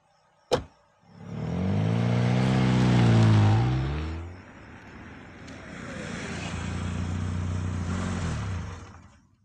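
A car pulls away after a sharp click, its engine rising in a loud revving drone, then settling into a steadier running hum as it drives on, close and with no talking.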